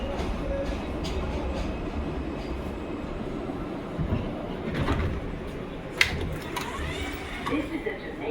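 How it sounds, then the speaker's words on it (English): An R160 J subway train rides through New York between Woodhaven Boulevard and 111th Street, a steady rumble of wheels and car body with rattles and a sharp clank, heard from inside the car. "This is the Jamaica Center bound J train."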